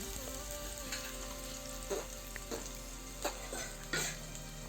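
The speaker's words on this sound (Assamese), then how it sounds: "এইখিনি মই গল্ডেন ব্ৰাউন হোৱালৈকে ভাজি ল'ম।" Chopped onions sizzle softly in oil in a pan for a makhana curry, a steady low frying hiss with a few stirring scrapes and brief bursts, nearby but quiet.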